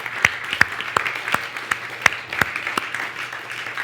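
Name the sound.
congregation applause in church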